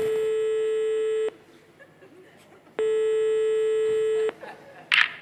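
A telephone ringing tone in a comedy sketch: two long, steady electronic rings separated by a pause, with brief faint voices in between and a short click at the end.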